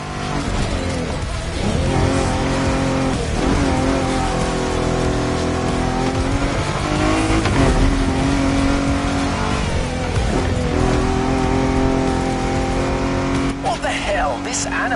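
A car engine revs and roars in The Crew Motorfest racing game, a loud continuous drone that rises and falls in pitch throughout, with rain-like noise and someone talking over it.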